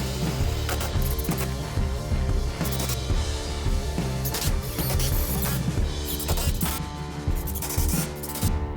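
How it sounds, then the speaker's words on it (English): Pieces of 2x6 construction lumber for a headboard are screwed together with a power driver, producing close, whirring, ratcheting bursts of mechanical noise that come repeatedly throughout. "Once the 2x6s were screwed together"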